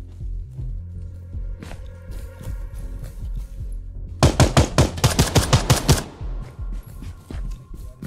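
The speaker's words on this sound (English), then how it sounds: "Something's shooting at us. Shots." Gunfire in the tactical shooter game Ground Branch, a rapid burst of loud automatic shots lasting about two seconds, preceded and followed by quieter footsteps and movement sounds.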